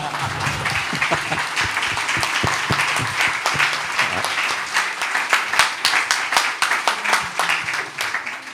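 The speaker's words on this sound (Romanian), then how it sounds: "hai să dăm un rând de aplauze" Enthusiastic applause from a crowd at a book launch, rapid overlapping claps building and sustaining for several seconds, loud and close, with no talking.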